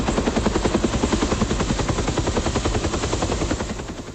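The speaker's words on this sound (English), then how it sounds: "General Hollingsworth mounts his personal helicopter, Dynamite 6, and takes to the skies" A military helicopter lifts off near the Battle of An Loc, its rotor blades beating loud, fast and steady throughout, with no voices.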